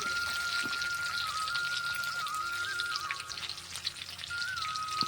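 Curry leaves and mustard seeds hiss and sizzle in hot oil, with a steady, fairly faint crackling frying sound throughout, tiny pops scattered over it and a faint tone running above.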